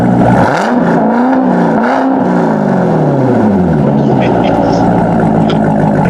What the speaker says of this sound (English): I said give it a couple revs.